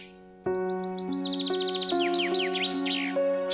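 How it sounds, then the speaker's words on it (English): Birds sing in spring with quick chirps and trilling notes high above a steady sustained tone, the calls tumbling over one another at close range. "listening to the birds celebrate the coming spring."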